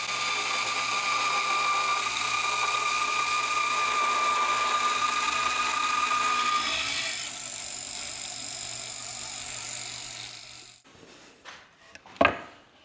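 A power tool saws through wooden parts for a Yellowstone stagecoach in a coach shop, giving a loud, steady whine that drops in pitch partway through, then stops, followed by a few knocks and one sharp clatter.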